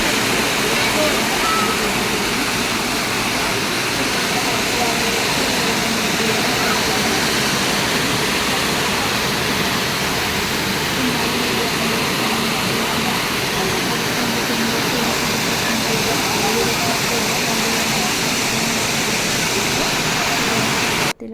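Steady, loud rushing of a low-flowing stream at Kukke Subramanya fills the whole clip, a continuous broadband wash like a small waterfall close by.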